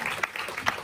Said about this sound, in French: nos premiers invités que vous allez applaudir